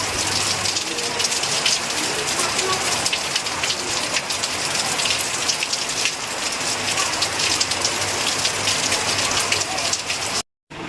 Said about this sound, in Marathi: आता बघा एवढा जोरात चालू झाला आहे पाऊस